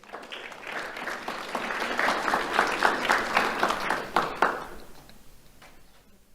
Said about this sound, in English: Let's have a round of applause for Paul Torjay.